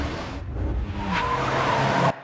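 An Audi car whips round with tires squealing and skidding, a loud, close screech that builds and holds for about two seconds before cutting off abruptly.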